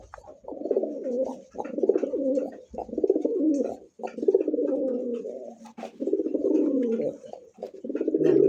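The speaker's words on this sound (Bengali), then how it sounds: "এই যে দেখেন এটা পাগলার যে ডাক সেই লেভেলের ডাক কিন্তু শুরু" Domestic fancy pigeons coo in a steady series of deep, throaty, rolling calls, with short pauses between the bursts, close and fairly loud, with no voices.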